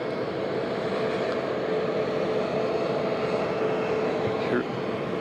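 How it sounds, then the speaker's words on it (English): Jet engines of Air Force One, the presidential plane, run in a continuous loud whine and roar on the ground, steady throughout, with someone talking over the engine noise. "Jeb Bush now meeting the plane"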